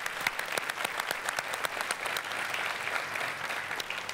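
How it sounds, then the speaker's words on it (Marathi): A studio audience at a Marathi comedy show claps enthusiastically, a dense, even wash of applause lasting the full few seconds, close and steady with no talking over it. "सो एकदा निलेशसाठी पण जोरदार टाळ्या"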